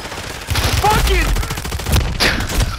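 Gunfire from the video game Call of Duty, bursts of shots and rapid fire rattling through the whole stretch, loud and close, with excited players shouting over the action.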